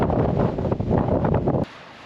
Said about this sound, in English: Oh, this wind is killing me.